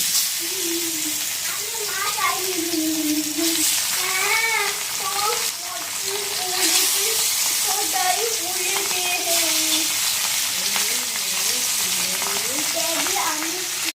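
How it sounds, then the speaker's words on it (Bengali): Pieces of rohu fish fry in hot oil for a Bengali mustard rohu curry. A steady, loud sizzle runs throughout while a voice talks over it. "তেল কিন্তু গরম হয়ে গেছে আর এখন মাছগুলো দিয়ে নেব তেলে"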